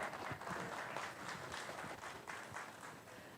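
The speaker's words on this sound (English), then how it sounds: "Let's give these exhibitors a round of applause out here for this Borgo overall drive." Faint, dense applause from an audience at a 2020 Clay County 4-H goat show, steady clapping for the exhibitors that holds for a few seconds with no talk over it.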